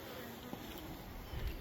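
Bees gather at an insulated hive topped with roofing tin, a soft continuous buzzing hum over a brief moment, close but faint.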